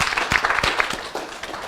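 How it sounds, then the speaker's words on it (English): An audience at a talk on learning breaks into applause, with several distinct nearby claps standing out from a steady crowd patter. "Let's give her a round of applause,"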